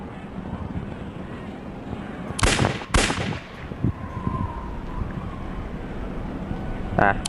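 Video-game gunfire aimed at moving targets, with a pair of loud bursts early on and a short crack near the end over steady game ambience and background noise.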